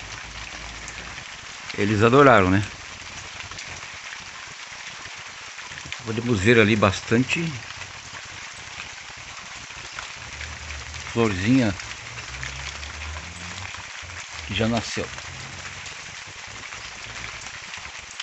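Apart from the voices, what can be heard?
rain falling on papaya plantation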